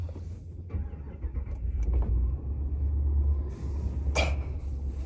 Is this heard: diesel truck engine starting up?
yes